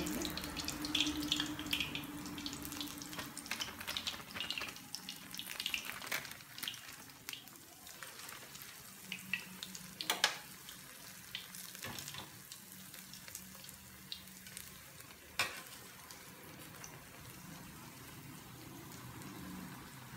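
Urad dal jamuns deep-frying in hot oil give a soft, continuous bubbling sizzle, fairly faint, with occasional clicks and light knocks from turning the balls.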